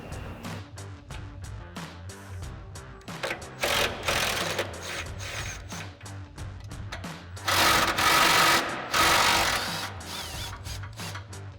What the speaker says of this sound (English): we'll grab our 13mm socket and extension on our impact and go ahead and get those off